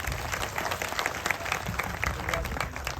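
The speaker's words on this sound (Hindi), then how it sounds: "एक बार जोरदार तालियां।" Loud, dense applause from a crowd gathered at a village protest sit-in, continuous clapping filling the whole stretch with a few voices mixed in.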